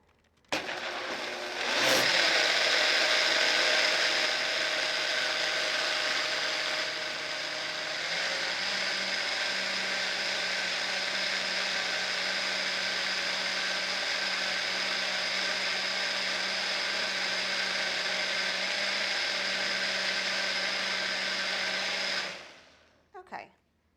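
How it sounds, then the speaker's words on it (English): A stand-up blender purees thick loaded baked potato-style cauliflower soup, its motor whirring loud and steady for about twenty seconds after a brief start, then cutting off near the end. "I feel like everything gets really nice and emulsified and really smooth when I use a stand-up blender"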